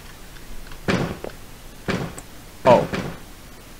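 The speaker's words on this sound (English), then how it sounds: "I'm just gonna close this door." A door swinging shut in a room late at night, a few separate bumps and thuds with one sharper knock near the end, fairly close and moderately loud, with no speech over them.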